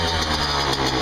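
A 1999 Yamaha YZ125 two-stroke dirt bike engine, not fully warmed up, idles with a steady, buzzy, close drone for a brief moment.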